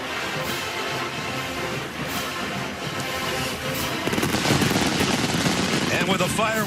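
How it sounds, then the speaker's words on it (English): Stadium fireworks at a college football game in Los Angeles booming and crackling in dense, continuous bursts over loud crowd noise, swelling toward the end. "And with the fireworks behind us, welcome everybody."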